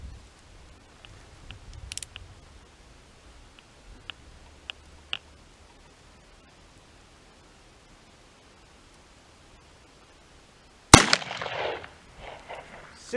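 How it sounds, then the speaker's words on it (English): A single sharp gunshot from an Uberti Cattleman revolver cracks loudly outdoors after a stretch of quiet with faint ticks, followed by a short echoing decay. "First off, we'll shoot this Uberti Cattleman."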